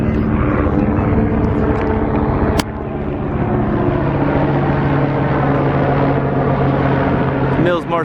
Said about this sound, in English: Mills Motorsports helicopter.